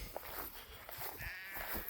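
Sheep bleating out on open pasture during lambing season, several calls overlapping at moderate distance in a steady outdoor background with no talk.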